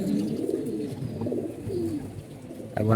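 Pigeons cooing close by, soft throaty rolling calls repeating over a low background, ending with a brief knock.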